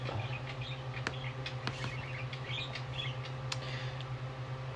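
A pet bird chirps indoors in a few faint, scattered tweets over a steady low hum.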